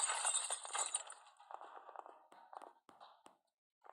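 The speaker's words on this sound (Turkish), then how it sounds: "şimdi harbi camı kıracağım ve giremeyeceğim oraya" A glass window shatters in the horror video game Dark Riddle, a bright crash with ringing shards that fades into a few scattered tinkles and small clinks before going quiet.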